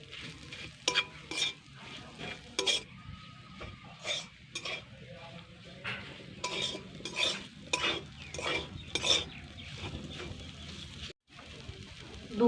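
Chicken pieces with ground coriander, cumin and garam masala stirred in a pan, a spatula scraping in repeated bursts over a low sizzle, close and fairly clear.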